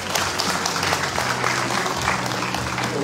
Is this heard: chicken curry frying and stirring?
no